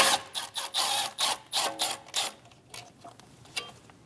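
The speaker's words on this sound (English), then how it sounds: "Using a 10mm socket, remove the bolt for the brake line bracket." 10mm socket ratchet removing a brake line bracket bolt on a 2016-2025 Chevrolet Malibu: a quick run of close, rhythmic ratcheting clicks that fades to a few scattered ticks.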